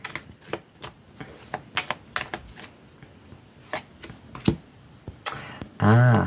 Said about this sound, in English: just give them a good shuffle